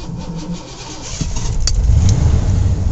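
A pickup truck's engine cranks and catches with the transfer case in four-low, a short starter whir followed by a steady, close low idle rumble that builds slightly and holds.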